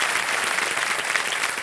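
Steady applause from a TV game show studio audience, dense and continuous from start to finish with no voices over it.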